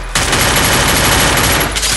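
Rapid, continuous gunfire from the video game Free Fire, in Pumpkin Snatch mode on the Advance Server, loud and dense, filling the whole moment with barely any gap.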